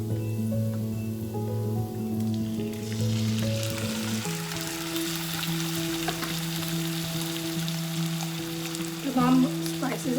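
Chicken pieces dropped into hot oil with sautéed finely chopped garlic for a tandoori chicken pizza, a busy crackling sizzle that flares and settles, with a few utensil clinks near the end.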